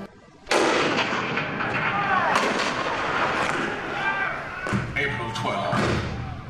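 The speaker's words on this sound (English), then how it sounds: "The cannons fought for war." Heavy cannon blasts boom out one after another, loud and close, with sharp thuds and rumbling echoes over a battlefield din, in a Hall of Presidents show depicting Fort Sumter.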